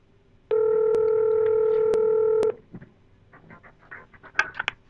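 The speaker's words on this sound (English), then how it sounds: "I'm going to hit the button for Michael Scott at extension 201 here" A Cisco IP phone on a UC520/UC540/UC560 system plays a steady dial tone for about two seconds, broken by a few short button clicks while an extension is dialed, followed by faint clicks and shuffling.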